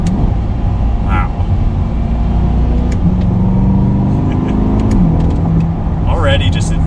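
A 2020 Chevrolet Corvette Stingray 3LT engine droning steadily from inside the car, pitch shifting through downshifts, with someone talking over the constant engine rumble.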